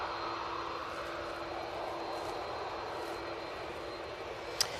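Airliner engines on the runway at Manchester Airport, an Aer Lingus jet lined up for departure, give a steady, moderately distant broadband roar with a faint whine, holding level throughout with one brief click near the end.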